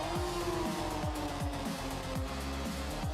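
An Aston Martin Valkyrie race car engine in the Project Motor Racing video game, rising through repeated quick upshifts in a steady rhythm, loud and close.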